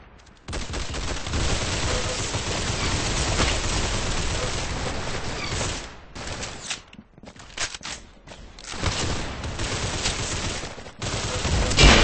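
Rapid automatic gunfire in the Roblox game Arsenal, dense continuous bursts filling most of the span with a few short gaps and scattered single shots, loud and close.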